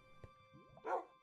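A dog barks in a Minecraft game, a short yip followed by a brief whine and one louder bark, fairly faint and alone.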